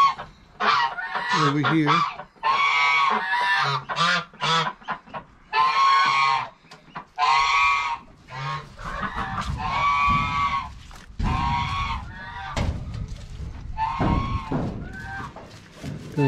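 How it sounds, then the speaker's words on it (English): Geese honking around a farmyard with a chicken coop in Tennessee, loud repeated honks in bursts across the whole stretch, alternating with someone talking nearby. "We have geese"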